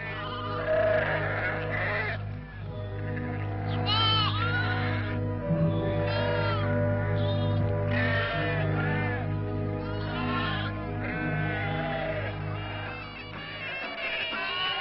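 Sheep bleat again and again over a steady low drone, the flock's calls overlapping in loud, quavering bursts from near and mid distance in a pastoral Algerian setting.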